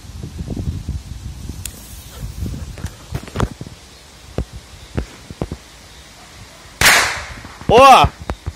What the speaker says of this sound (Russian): Лучше глубоко туда сделать вообще, чтобы петарда вообще побулькнула.